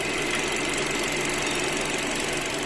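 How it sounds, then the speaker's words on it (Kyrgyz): A car engine running steadily at idle, a loud, even mechanical hum with a faint knocking texture, close by and unchanging throughout, with no voices. "Мотору бирок идеал иштеп турат десек болот."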